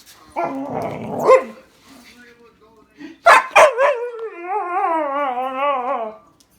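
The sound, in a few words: dog barking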